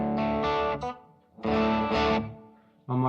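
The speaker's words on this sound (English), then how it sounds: "I've just got a little touch of reverb" Electric guitar, drop-tuned, played with a light touch of reverb in a wide stereo field at a first gig; two sustained strummed chords ring out and decay, with a third chord struck at the end.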